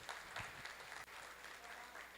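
A church congregation at a graduation ceremony for a marriage course applauds the graduates, a faint but continuous patter of clapping from a crowd, heard alone throughout.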